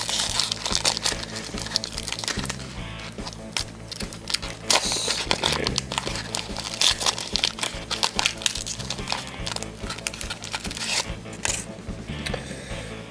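A Topps 2009-10 basketball card pack wrapper crinkles and crackles up close as it is torn open, a continuous rustling that runs the whole time.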